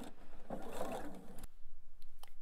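A sewing machine runs a short backstitch at the end of a fabric dart for a pocket purse: one brief, close mechanical burst of rapid stitching that stops abruptly, followed by quiet.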